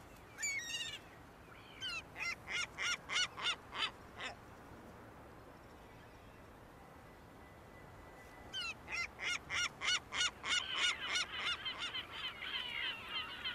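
Gulls nesting on flat city rooftops in Istanbul give loud, rapid series of harsh repeated cries in two bouts separated by a quieter pause, with no voices.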